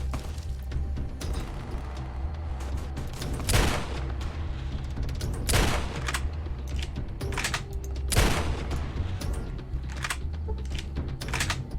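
Gunfire in Fallout: Tale of Two Wastelands during a fight with Caesar's Legion, a steady clatter of shots with several louder bursts standing out over a dense continuous background.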